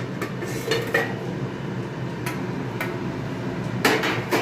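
A lid goes onto a pot of potato curry with peas, giving a handful of bright metallic clinks and taps spread unevenly over a steady kitchen background hiss.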